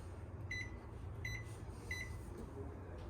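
Microwave oven in an RV beeps as its clock is set, three short bright beeps spaced about seven tenths of a second apart over a low steady hum, no talk.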